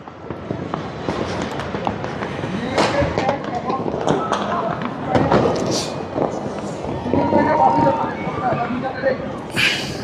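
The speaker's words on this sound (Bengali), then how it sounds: "পুরাতন বছরকে বিদায় জানিয়ে নতুন বছরকে স্বাগত জানাতে তাদের যে আতশবাজি সেই আতশবাজি কিন্তু তারা ফুটিয়ে যাচ্ছেন" New Year fireworks and chocolate bomb firecrackers bursting across Chittagong city, a dense run of loud cracks and thumps near and far over a noisy crowd, with people talking throughout.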